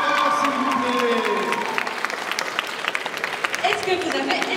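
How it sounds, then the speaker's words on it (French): Festival audience at a manga convention contest applauding and cheering, a dense wash of clapping and shouts that stays steady, with an announcer's voice talking over it near the start. "Allez, on crie encore. On l'applaudit encore, s'il vous plaît."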